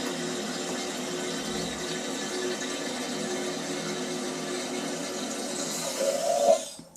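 A toilet cistern nearly full keeps refilling through its ball valve with a steady hiss and trickle of water, and a brief louder gurgle comes just before it stops.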